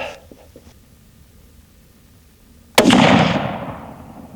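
A single sharp Remington rifle shot cracks from a shooting bench during load development, loud and close, followed by a fading echo after a few faint clicks.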